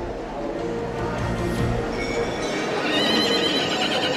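A loud horse neigh and whinny sound effect with clip-clop hoofbeats, played on a television quiz show over a busy, full background.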